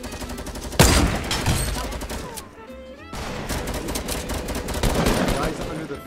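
Rapid gunfire rattles through a battle royale squad fight in a video game. Dense automatic bursts start with a sharp loud shot, drop away briefly, then resume as a sustained volley, with voices faintly mixed in.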